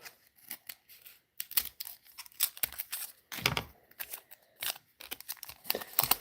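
Scissors snip through the foil wrapper of a 2025 Topps Heritage baseball card pack in a quick series of close, crisp cuts and crinkles, with brief pauses between strokes.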